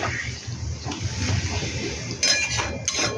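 Metal lid set onto a pot of chicken curry, a few clinks and clatters near the end over a low background hum.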